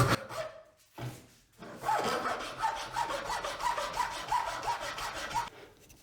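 A hand file works soft pine end grain in rhythmic back-and-forth strokes, a close, quiet rasping that runs steadily after a brief pause, with no talk.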